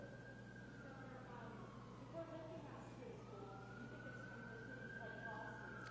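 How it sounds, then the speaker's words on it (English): A wailing emergency siren rises and falls in the distance, passing steadily beneath a quiet background hum. "The siren's got to get by."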